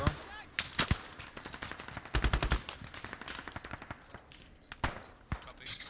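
Gunfire rattles through a firefight in the video game Squad, with rapid machine-gun bursts and scattered single shots at varying distance, a dense volley in the middle, under occasional voices.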